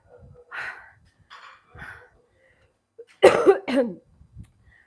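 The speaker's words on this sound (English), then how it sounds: "I'm sorry I'm coughing in your ears" Several coughs sound close up: a few soft, scattered ones, then two harsher, louder coughs back to back, with quiet breathing between.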